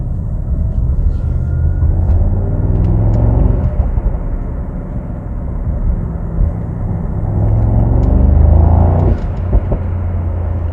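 A car drives through the city with its suspension set to comfort, giving a steady low engine and road rumble with passing tire noise throughout, with no one talking.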